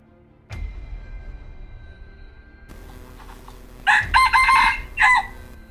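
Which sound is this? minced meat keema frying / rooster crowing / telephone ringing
rooster crowing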